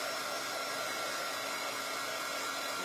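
A hair dryer blows steadily on a puppy being groomed, a loud, continuous, close-up whoosh with no breaks and no voices over it.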